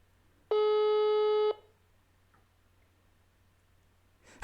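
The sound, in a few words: telephone ringing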